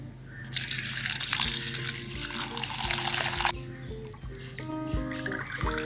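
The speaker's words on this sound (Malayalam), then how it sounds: "നമ്മൾ ഈ പാത്രത്തിലേക്ക് ഒഴിക്കുക." Homemade rose apple wine pours into a vessel in a steady, close splashing stream for about three seconds, followed by quiet drips and light clinks.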